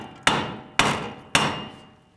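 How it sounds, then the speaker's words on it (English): Three firm hammer taps on a metal front wheel hub of a 2011–2015 Chevy Cruze during bearing replacement, evenly spaced about half a second apart, each ringing briefly before fading. "just use a regular hammer and give it a tap"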